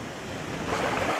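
Waves wash onto a beach near the Larvik ferry harbour in Norway, a steady rushing surf blended with wind noise across the microphone, close and fairly loud, no voices.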